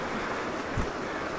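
Creek floodwater pouring over a low bridge makes a steady, broad outdoor rush with no pauses, moderately close, with no voices over it.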